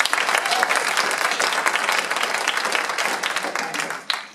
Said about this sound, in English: let me hear a big old clap for blues